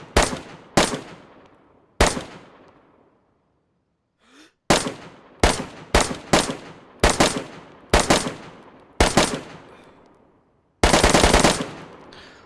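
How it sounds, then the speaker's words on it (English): Rifle gunfire from the DayZ Expansion mod video game, with sharp, loud cracks and echoing tails. Single shots and short doubles are spaced across the clip, ending in one longer full-auto burst, with no talking. "obviously this gun does your standard full auto, and then it does your semi-auto as well by hitting X"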